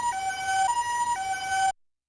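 An electronic ambulance siren from a 2005 VTech Touch and Discover Alphabet Town toy, heard directly from its speaker: a clean two-tone wail that alternates high and low steps, then cuts off abruptly.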